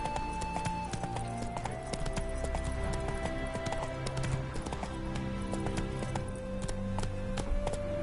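Rhythmic clip-clop of horse hooves in a video game over a steady musical drone, with a faint whinny; no talking.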